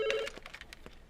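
A telephone rings in a dubbed Hindi action film scene, with a brief electronic ring tone followed by choppy tonal bursts. The sound is close and moderately loud, and no one speaks.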